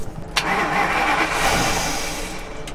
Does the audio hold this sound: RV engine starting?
yes